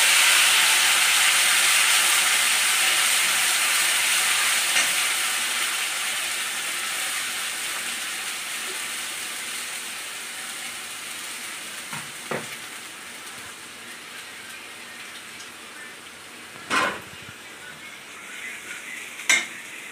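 Spices hit hot oil left over from frying onions, giving a loud, steady sizzle and hiss that slowly settles, with a few sharp scrapes and clinks of stirring near the end.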